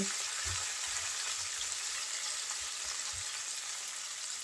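Bitter gourd (karela) pieces frying in hot oil in a pan, giving a steady, dense sizzle that holds evenly throughout, with a few soft low knocks underneath and no talking.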